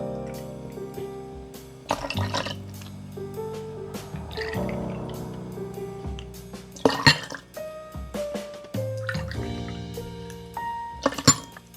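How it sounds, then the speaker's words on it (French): Mango passion fruit pop pours into a cocktail glass with a gurgling, bubbling splash that rises in pitch as the glass fills, broken by short pauses and drips, close and clear with no talk. "On va mettre ensuite donc le pop mangue passion. On va mettre donc 10 centilitres."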